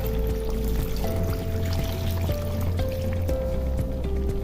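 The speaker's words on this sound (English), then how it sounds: "I'll top off the pot with some water." Water poured steadily into a pot for a zobo hibiscus drink, a continuous pouring and trickling stream with a rising fill tone, close and fairly loud throughout with no talk.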